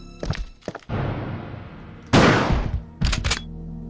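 Shotgun blasts fired at a Licker in the Resident Evil 2 video game: two sharp blasts with a long decaying boom between them, then a further pair of close, loud bursts, all fairly near and without talk.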